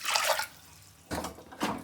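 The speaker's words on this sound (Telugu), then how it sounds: "వాటర్ పోసుకుందాం." Water poured into a pressure cooker while a sweet bobbatlu dish is prepared, heard as two separate bursts of splashing, a longer pour followed by a pause and then two shorter splashes, fairly close and with no talk.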